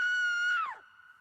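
A voice imitates an invented screaming hat with one sustained, fairly quiet 'ah' cry that holds steady and then drops in pitch as it trails off.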